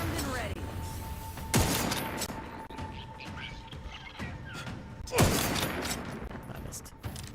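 Gunfire in The Outer Worlds 2 rings out in two loud, sharp bursts a few seconds apart, each with a thudding impact and rattling tail, over a busy background of game noise.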